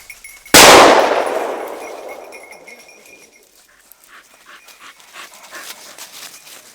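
A loud metallic clang opens and rings down slowly, then a hunting dog pants quickly and steadily nearby in the Sologne countryside, with faint rustling.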